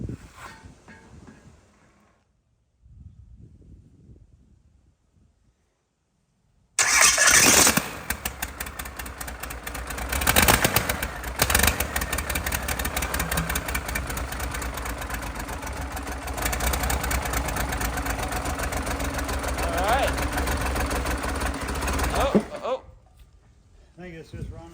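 An old Cummins 12-valve 6BT diesel found in a garage cranks, fires and settles into a loud, steady idle that runs for about fifteen seconds before cutting off, with quieter sounds before and after.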